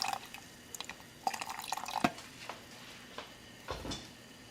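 Water is poured into a cooking pot to cover pieces of beef for a Mexican chile colorado stew, giving light splashes and drips mixed with a few sharp clinks of metal and dishes, fairly quiet and close.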